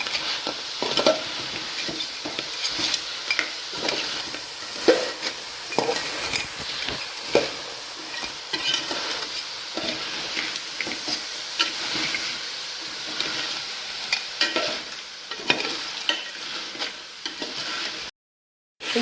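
Crab curry with black pepper and masala being stirred in a pan: continuous scraping and clinking of the spoon over a steady sizzle, close and fairly loud, cutting off into a brief silence near the end.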